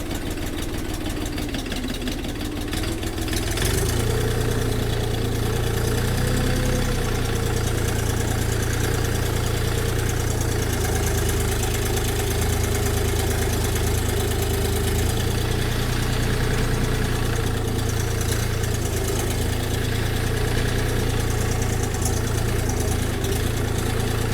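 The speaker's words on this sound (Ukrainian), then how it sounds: "Бачите, досить невеличкий міні-трактор, скрізь пролізе." A Xingtai XT244 mini tractor drives in low first gear nearby, chugging with a constant low throb and rattling vibration that holds throughout with no talking.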